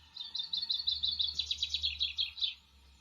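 Recorded birdsong played back from a cheap MP3 playback board, a bright run of rapid repeated chirps and trills lasting a few seconds over a steady low hum.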